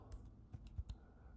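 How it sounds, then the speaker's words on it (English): A computer keyboard typing a web address into a browser: a handful of soft, uneven key clicks in a short burst, close and fairly quiet, with no talking. "You go to a new browser window and type"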